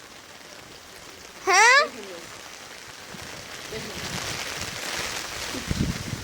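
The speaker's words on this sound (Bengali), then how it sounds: "বৃষ্টিতে আমরা পুরো ভিজে যাচ্ছি" Heavy rain falls on people getting soaked, a low, steady patter spread across the scene, with a brief chirping tone and a single short spoken word early on, and the drumming grows slightly louder toward the end.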